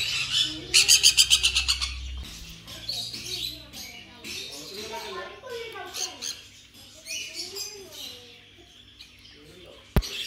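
Exotic birds in a home aviary chirp and squawk with rapid twittering calls, starting with a loud trilling burst, while people talk nearby.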